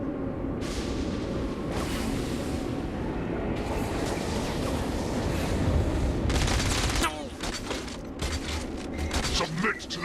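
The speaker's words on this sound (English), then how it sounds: "Are you shooting me in the face?" Gunfire in Saints Row: Gat out of Hell comes in bursts and rattling volleys over a heavy, rumbling action soundtrack, with talk mixed in.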